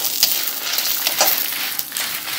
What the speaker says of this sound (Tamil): இந்த அடுப்புச்சட்டில் வந்து எண்ணெய் கடுகு போட்டு வாழைக்காய் போடுறேன், அது மாதிரி ஃப்ரையாக இருக்கும்